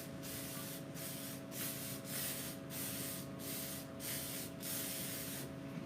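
Bursts from a spray can coat grapevine wreath flowers, a close, loud hiss pulsing on and off in about eight short even sprays with brief gaps between, no voices.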